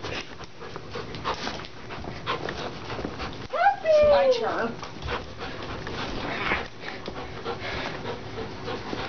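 A dog pants in quick soft breaths and lets out a short whimpering whine partway through, close to the mic, while people talk nearby.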